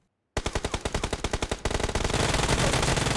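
SCAR rifle fire in a video game: a rapid run of sharp, evenly spaced shots that merges into a dense, continuous burst of loud, close gunfire with no talk.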